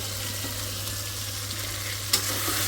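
Hilsa fish with potato and tomato sizzles and fries steadily in a kadai, a soft continuous crackle with a low hum underneath and one brief clatter near the end.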